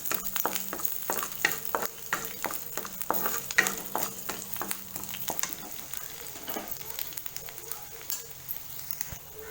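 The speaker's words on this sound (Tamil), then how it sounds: "பூண்டையும் நல்லா செவக்க வறுத்து எடுத்துக்கணும்." Garlic cloves fry in a pan for a moringa leaf spice powder, giving a steady close sizzle with a quick, regular series of stirring scrapes through the first half before the sizzle carries on alone, with no talking.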